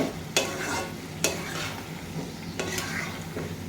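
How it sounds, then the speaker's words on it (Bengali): Goat liver bhuna fries in a pan with a constant close sizzle, broken by a few sharp scrapes and clanks of the spatula as it is stirred. No one speaks. "এইভাবে কিছুক্ষণ পর পর বেশ নাড়াচাড়া করে কষাই নেব কলিজা ভুনা।"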